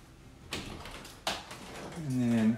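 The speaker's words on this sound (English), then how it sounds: "Open up first door." The door of a linen closet off the utility room in a large triple-wide manufactured home opens with two sharp knocks or rattles from the door, then a person talks.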